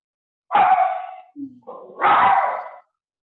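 A dog gives two sharp barks close by, with a small whimper or yip between them and silence on either side.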